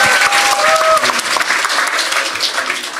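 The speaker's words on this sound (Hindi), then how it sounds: "एक बार एलिजा के लिए ताली बजाएगा और लॉन्डो के लिए बजाएंगे" Studio audience clapping for the day's contestants on a comedy show, a loud dense burst of applause that stays strong then eases a little, with a few whistling tones early on.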